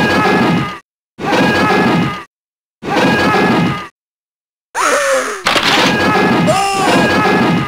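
An electronic missile-launch effect from a laser tag tournament game: three identical loud buzzing bursts separated by short silences, then sweeping synthetic tones, all close and harsh.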